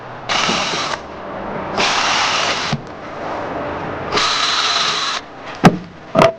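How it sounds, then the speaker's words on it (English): A power drill whirs in three bursts of a few seconds each, drilling pilot holes into a 2x4 wooden plank, followed by a couple of sharp knocks. "I'm going to drill 2 pilot holes."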